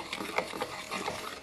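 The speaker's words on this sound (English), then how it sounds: "Stir that through." Orange flavouring is stirred into melted chocolate in a bowl, a short run of soft, close scraping strokes with a slight rhythmic swish.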